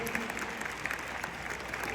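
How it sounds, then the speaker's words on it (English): Audience at a high school financial literacy concert applauding a band, a steady, fairly quiet wash of many hands clapping heard from a distance, continuous throughout. "can we give one more round of applause for that amazing band?"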